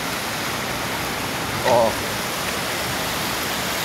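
Steady rushing of a clear river flowing, a constant broadband wash of water throughout, with a brief voice exclaiming partway through.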